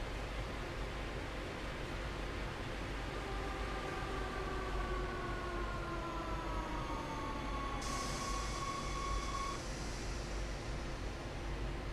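A rapid transit train in the game Train Sim World pulls into a station, with a steady low rumble of wheels on track and a long, gliding brake squeal that rises and falls. A higher tone enters near the end.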